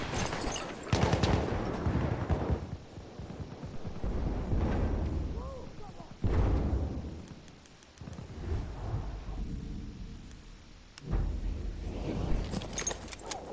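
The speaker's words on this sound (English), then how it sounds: "Machine gun, hostile!" Heavy machine-gun fire in a battlefield video game, with dense rattling bursts and booming blasts that come and go in several loud waves, while voices shout in between.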